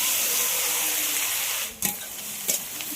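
Okra coated in spices tipped into hot oil tempered with dried chilli, cumin and mustard seed, a steady broad sizzle with a brief clatter and hiss as it lands, then a second knock of the pan.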